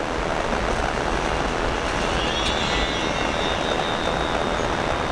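A Hobbyzone Sport Cub S radio-controlled plane with a 2S brushless motor and Yak/Pitts prop upgrade flies outdoors, its steady high electric whine and prop buzz over constant wind noise.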